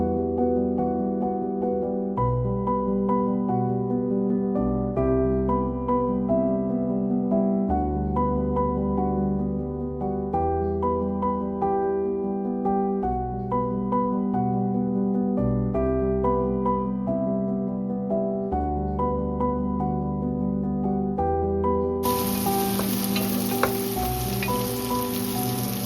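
Onions frying with salt in a pan for a beef bhuna, a bright crackling sizzle that rises near the end over steady tonal background music.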